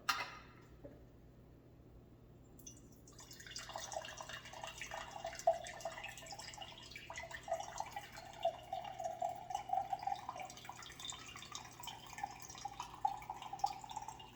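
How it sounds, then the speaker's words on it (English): Coconut water kefir pours from one mason jar into another, a steady trickling, splashing stream that starts after a quiet moment and runs on continuously at close range. "So what I'll do is pour this into this other jar, this other mason jar."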